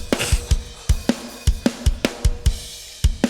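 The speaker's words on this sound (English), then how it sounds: "That snare drum. Oh my Lord." Snare drum with a cracked, breaking tone, like a blown top head, struck in a steady rhythm of sharp hits over a drum groove with kick beats, loud and close, no talking.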